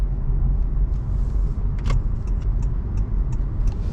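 Cabin noise inside a 2018 Honda Clarity Touring on the move, a steady low road rumble and tyre roar with faint scattered ticks and rattles, close and constant.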